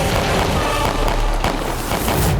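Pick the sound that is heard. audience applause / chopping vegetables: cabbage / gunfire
gunfire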